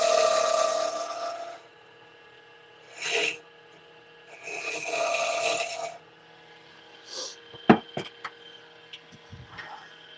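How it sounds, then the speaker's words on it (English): A bowl gouge scrapes a spinning wooden bowl on a lathe in several raspy passes of a second or two, separated by quieter gaps with faint clicks and knocks, close and with no talk. "Scrape it a little bit with the bowl gouge."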